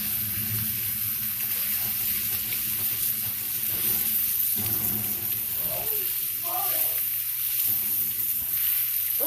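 A ribeye steak sears in a pan with a continuous bright sizzle and crackle, close and steady, occasionally shifting as the meat is moved around, with soft voices in the background.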